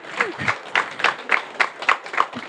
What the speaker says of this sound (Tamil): நல்ல ஒரு கைத்தட்டல் கொடுக்கலாம் சார்.